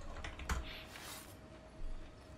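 Keys tapped on a computer keyboard during a For Honor session, a quiet scatter of soft clicks with one sharper press near the start and a brief flurry later, faint and alone.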